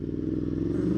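A 2018 Aprilia Tuono V4 motorcycle engine hums steadily nearby, a brief low droning tone with dense rhythmic pulsing and no change in pace.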